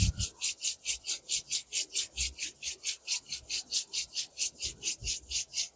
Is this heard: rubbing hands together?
yes